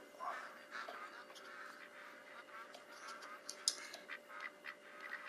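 A duck quacks faintly and repeatedly, in soft nasal bursts under a low background hum, seemingly coming from a TV in the room.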